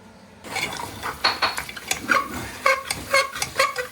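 Chicken legs being stir-fried in a pan, with a utensil scraping and clinking against the metal in irregular strokes over a soft sizzle, close and fairly quiet.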